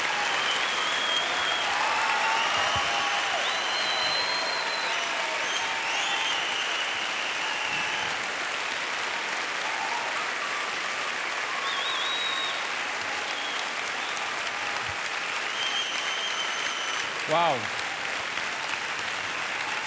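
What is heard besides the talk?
audience standing ovation applause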